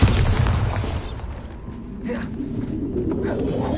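A Bombarda blasting spell in Hogwarts Legacy, a sudden loud boom at the start that decays into a rumbling, creaking tail, with a voice over it.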